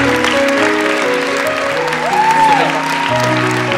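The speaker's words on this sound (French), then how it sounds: "on peut les applaudir" Church congregation applauding after a sermon, a dense steady wash of clapping with sustained music tones underneath and a brief rising whoop.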